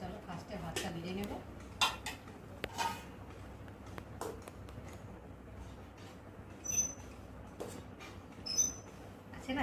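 Rice being served onto plates for a home lunch, with scattered clinks and knocks of dishes and a serving spoon against metal plates, fairly quiet, with faint voices in the background.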